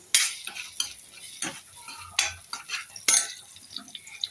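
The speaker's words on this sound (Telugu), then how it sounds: "దాంట్లో ఆయిల్, పచ్చిమిర్చి, ఉల్లిగడ్డ అవి బ్రౌన్ అయ్యే వరకు ఉంచుకోవాలి గాయ్స్" Onions and green chillies frying in oil in a pan, with a clear sizzle under repeated scraping strokes of a spoon or spatula stirring the pan, no voices.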